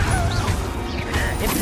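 Confringo spell cast in the Hogwarts Legacy video game, a short dense burst of mechanical creaking and crackling effects, loud and close, with no voices.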